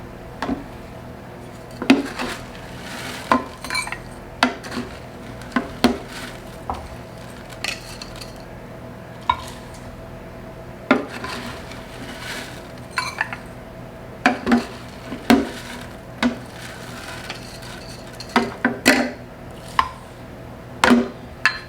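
Peanut butter and banana baked oatmeal batter with rolled oats being mixed in a bowl, producing irregular clinks and scrapes of a utensil against the bowl at close range, sparse at first and then quicker, with no voices.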